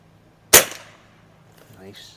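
A single sharp crack from a Beeman QB Chief air rifle firing a pellet at 25 yards, close and loud with a quick decay, followed by a faint metallic click.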